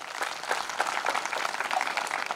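Applause from a crowd at a devotional satsang gathering honoring Sant Chokhoba, a dense steady wash of many hands clapping loudly together, no speech over it.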